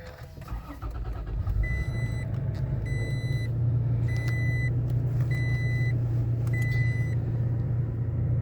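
A 2020 Toyota Tacoma pickup truck starts up, the engine catching and settling into a steady low idle rumble, with repeated dashboard warning chimes beeping over it.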